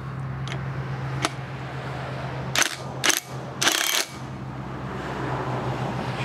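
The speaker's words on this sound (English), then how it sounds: "Got my flywheel puller hooked up." A flywheel puller works on a 7.5 Suzuki outboard motor's flywheel, with sharp ratcheting and metallic clicks, a few short bursts of grinding mechanism noise over a faint steady hum.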